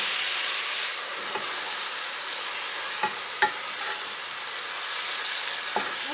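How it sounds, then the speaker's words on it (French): Oyster mushrooms fry in a pan with a steady, close sizzle, broken by a few sharp utensil clicks and taps as they are stirred. "laisser rissoler pendant 10 minutes, au moins à couvert, ou jusqu'à ce que les pleurotes soient bien fondantes, bien cuites"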